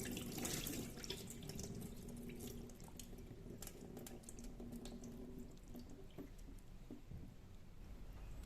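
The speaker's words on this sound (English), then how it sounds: "So I'll rinse it one last time to get everything out." Tap water runs steadily into a sink while rice is rinsed, a continuous close splashing hiss with small clinks and drips, fairly quiet, no talking.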